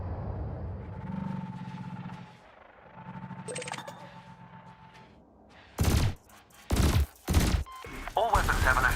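Spaceship weapons in Elite Dangerous fire on floating canisters in bursts: a faint hum and soft tones first, then three loud, broadband blasts from about six seconds, each lasting around half a second, followed by a sustained roaring barrage at the end.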